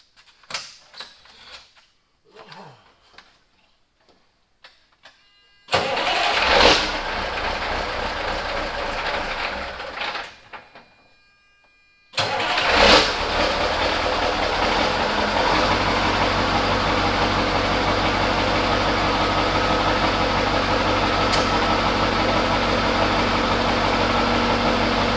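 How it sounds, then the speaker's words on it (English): A Mack CL713 truck with an E9 V8 diesel engine cranks and catches loudly, stumbles briefly, restarts, then settles into a steady, deep, rumbling idle that carries on evenly, preceded by faint clicks and handling noises. "Let's start the truck up real quick."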